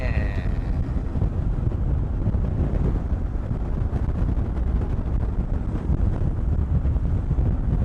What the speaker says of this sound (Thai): ลม ก็ค่อนข้างแรงนะครับ